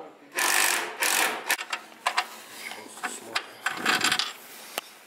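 A stripped thread inside a Honda Civic subframe being rethreaded: a string of short, close metallic ratcheting bursts and sharp clicks, irregular and separated by brief quiet gaps.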